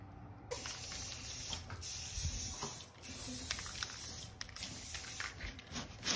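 Aerosol can of satin clear coat sprayed onto a costume armor build, a steady close hiss that runs almost continuously with brief breaks between passes.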